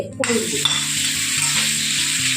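Salted paneer pieces fry in oil in a kadai, giving a continuous bright sizzle with a soft clink at the start and a faint background hum underneath.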